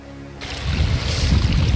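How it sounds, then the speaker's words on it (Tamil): A nearby waterfall on a Kanjamalai hill trail rushes steadily, its full, rumbling water noise rising suddenly after a brief quieter start and holding loud throughout. "இங்கே பக்கத்தில் அருவி சவுண்டு கேட்குது, மிக அருகில் இருக்குன்னு நினைக்கிறேன்."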